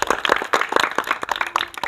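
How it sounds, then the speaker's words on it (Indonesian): A class of students in a school basketball lesson clapping, a quick, somewhat uneven patter of hand claps from a small group, close and moderately loud throughout. "Ya, tepuk tangan untuk kalian semua dulu."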